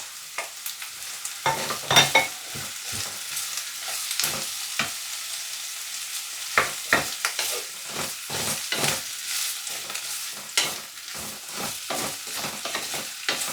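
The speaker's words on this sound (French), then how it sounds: "Et on vient mélanger le tout quelques minutes. On les fait revenir." Onion, potato pieces and broccoli stems sauté in hot oil, a steady soft sizzle broken by repeated scraping and stirring strokes of a utensil against the pan, close up with no talking.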